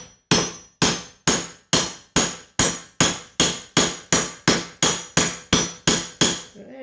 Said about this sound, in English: Instead of beating on the handle, now beat on the head a little bit.